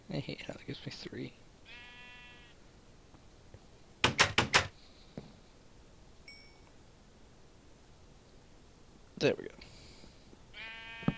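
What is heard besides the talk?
sheep bleating in the video game Minecraft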